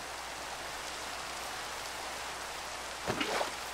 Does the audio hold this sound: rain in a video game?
yes